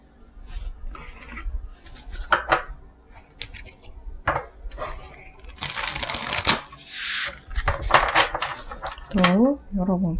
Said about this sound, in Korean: 이번 주에는 어떤 일이 있을지 카드 나열 좀 해보도록 할게요